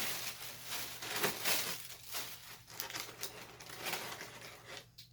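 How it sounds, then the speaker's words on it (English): Gift wrapping paper crinkles and rustles as it is unwrapped, in repeated close, crisp bursts with brief pauses, continuing for several seconds. "let's get to unwrapping"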